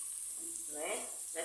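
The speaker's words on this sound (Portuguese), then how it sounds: "E agora eu vou colocar o arroz" Rice tipped into a pan where garlic and small peppers are already frying in oil, giving a steady sizzle that swells briefly as the grains hit the hot fat.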